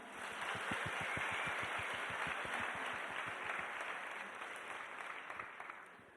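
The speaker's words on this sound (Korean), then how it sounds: "여러분을 향해서 박수 한번." Korean church congregation applauding during a Wednesday evening worship gathering, a loud, dense burst of clapping with some rhythmic, in-time claps in the first half, gradually thinning and fading toward the end.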